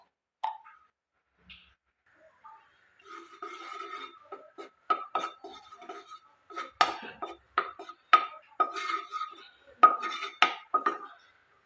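A metal wok is set on a gas stove and ghee is spooned in, producing a scattered series of close clinks and scrapes of utensil against pan that grow busier toward the end, with no voices.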